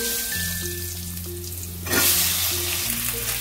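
Potatoes fry in hot oil with Kashmiri chili and turmeric, a close, steady sizzle that swells into a louder crackle midway as they are stirred, with no voices.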